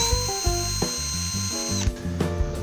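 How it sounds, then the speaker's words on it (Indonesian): Bosch GSR 10.8 LI cordless drill whirring steadily near the mic while drilling out the rivet of a Hot Wheels Dodge Challenger Concept toy car, its pitch shifting as the bit bites, with no talk. "Hari ini saya mau coba unrivet Hot Wheels pakai"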